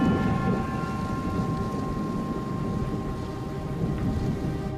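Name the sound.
thunder rumbling during a storm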